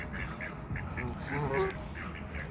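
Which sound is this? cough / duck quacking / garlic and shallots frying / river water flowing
duck quacking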